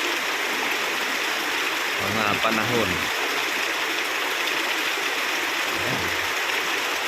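Heavy morning rain pouring down at a calamansi orchard, a constant hissing wash that never lets up, with someone speaking briefly twice over it.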